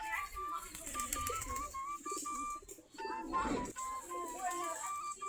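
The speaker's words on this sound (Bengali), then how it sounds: "আমাদের সবগুলো দেশি গিরিবাজ কবুতর।" Desi Giribaz pigeons, also called golla pigeons, coo and call nearby while feeding in the afternoon, with repeated short calls over a busy background and a voice briefly mixed in.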